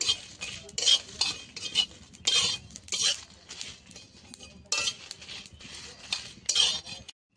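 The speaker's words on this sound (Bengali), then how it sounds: "এবার আমি দিয়ে দেবো জিরে আর দেবো শুকনো লঙ্কা, দিয়ে আমি তখন ভেজে নেব" A spatula scrapes and stirs cumin seeds and dried red chillies in a hot kadai, making repeated metallic scraping bursts with brief pauses between them over a faint sizzle, then stopping abruptly.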